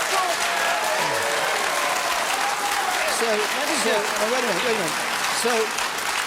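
Loud, steady audience applause at a panel debate, filling the whole stretch, with a voice speaking over the clapping.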